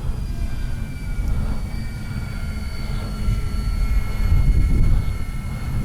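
E-flite Beechcraft D-18 twin-engine RC airplane cruising overhead with a steady electric motor whine and a low rumble, swelling slightly as it passes closer.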